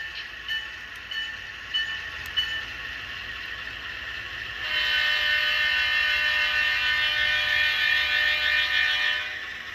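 A Kato Dash 9 model locomotive fitted with a Soundtraxx sound decoder gives a steady, shrill, horn-like electronic tone that grows louder and fuller about halfway through.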